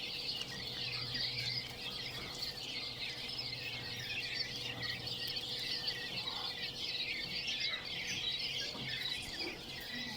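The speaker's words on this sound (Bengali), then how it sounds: "তো দেখিয়ে দিলাম আমাদের কোয়েল পাখির বাচ্চাগুলা এবং প্যারেন্টস কোয়েল" Quail chicks and adult quails in cages give a dense, constant chorus of high, thin chirps and peeps, faint and steady, with a low mechanical hum underneath.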